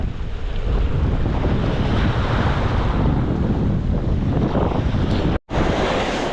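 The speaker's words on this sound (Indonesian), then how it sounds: "kalian tengok nih ombak ini mulai naik dia tuh" Strong waves surge and roar with heavy wind buffeting the microphone at a coastal fishing spot, a loud, continuous wash that cuts out briefly near the end.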